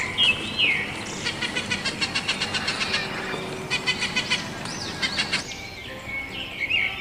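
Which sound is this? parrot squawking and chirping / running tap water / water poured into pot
parrot squawking and chirping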